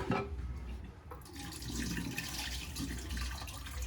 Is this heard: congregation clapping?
no